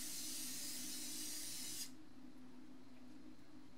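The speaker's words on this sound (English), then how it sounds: "Now, you can apply this product pretty liberally" Lysol disinfectant spray in Linen Scent hisses onto a mirror in one close, continuous burst lasting almost two seconds, then stops abruptly, leaving a faint room hum.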